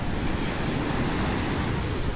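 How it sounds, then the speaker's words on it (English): Ocean surf washing in steadily at a vacation beach, a continuous broadband roar with some wind buffeting the microphone, no break in the sound. "Look at those waves."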